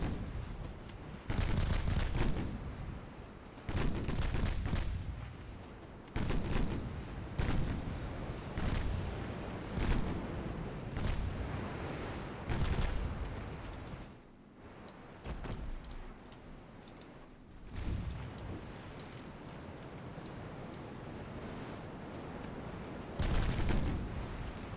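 Rapid naval gunfire in a Japanese warship game, with the heavily armed cruiser Yubari trading fire with an escort cruiser: repeated heavy booming salvos in uneven bursts, some close and loud, others duller, across a continuous rumbling battle.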